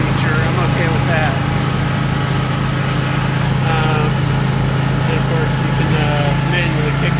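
A snowblower's small engine runs continuously and loudly at a steady pitch while blowing snow, with a voice talking over it.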